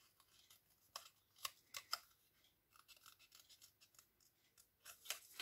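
Scissors snip through paper for a handmade mini album, a run of quiet, crisp cuts in irregular bursts, close and soft, with no voices.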